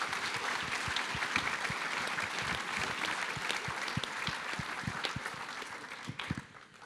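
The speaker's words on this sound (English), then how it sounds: "let's give them another hand of applause" Audience applause for a conference panel in a hall, dense continuous clapping from many hands that holds steady and then fades out near the end.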